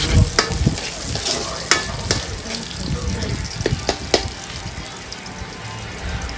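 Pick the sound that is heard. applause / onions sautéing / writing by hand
onions sautéing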